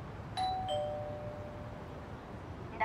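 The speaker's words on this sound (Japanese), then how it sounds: "それじゃあ高梨さん、ほらインターホン。" An apartment intercom doorbell in the video game Lost Judgment rings out with a clear two-tone electronic chime, a bright first note followed by a lower second that lingers and fades over a quiet room.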